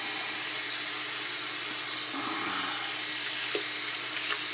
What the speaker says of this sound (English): I'll make sure I get a good rinse here.